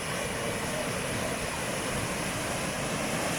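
Steady, loud broadband roar of wind blowing mist off the waterfall at Falls Park in Sioux Falls, heard from a catwalk, constant and unbroken with no voices.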